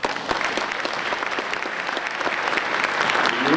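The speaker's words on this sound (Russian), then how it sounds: "Сорвать бурные аплодисменты" Steady, fairly loud audience applause at a gubernatorial candidates' event, dense clapping that continues evenly for a few seconds.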